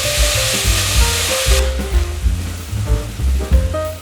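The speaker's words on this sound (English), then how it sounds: "Now add the chopped tomatoes." Chopped tomatoes dropped into a hot pan with ginger and garlic, a loud close sizzle that hisses strongly at first, then settles into softer crackling frying under stirring scrapes.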